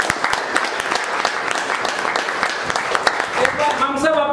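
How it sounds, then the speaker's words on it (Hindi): Loud, sustained clapping from a crowd at a corporate training gathering for the company Supreme Build, with a voice rising faintly under the applause near the end. "एक बार अपनी कंपनी सुप्रीम बिल्ड के लिए एक बार जोरदार तालियां"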